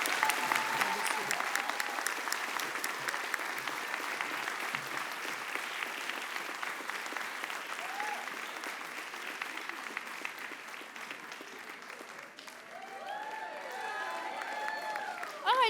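A large audience at the 2023 Summer Solstice Indigenous Music Awards applauds steadily for the whole stretch, dense clapping with some cheering and whoops rising near the end, fading only slightly midway.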